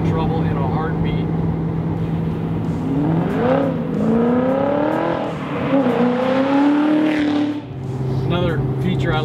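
A 2005–2006 Ford GT's 700-horsepower supercharged 5.4-litre engine revs hard and climbs in pitch through several rising sweeps, loud and close, with a steady drone before and after.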